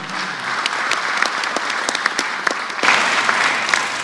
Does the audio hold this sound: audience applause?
yes